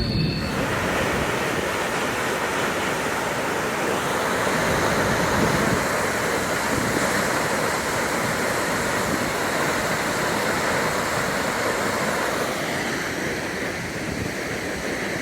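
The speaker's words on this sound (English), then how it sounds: "It's just a waterfall." A waterfall in Norway heard from a viewing platform, a dense, constant roar of rushing water that stays loud and unbroken for the whole stretch.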